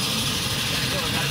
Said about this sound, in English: There's the airplane flying up.